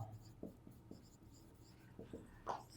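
A pen or chalk writes out a math solution on sets, with faint scratchy strokes in short bursts and small pauses, quiet and close, without talk.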